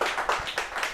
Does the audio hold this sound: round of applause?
yes